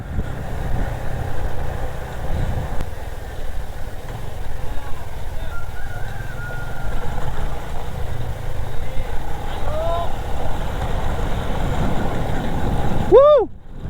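A Yamaha PG1 motorcycle engine drones steadily and loudly while riding a rough road, with a continuous rumbling roar that holds throughout and a brief sharp tone right at the end.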